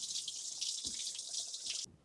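Water streams steadily from a dehumidifier's pump hose into a container, a soft continuous hiss of flow with a faint splash, then cuts off abruptly near the end.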